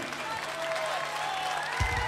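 Audience applause at a concert in Buenos Aires, a steady wash of clapping that holds at even level for about two seconds, with a faint voice or tone running underneath.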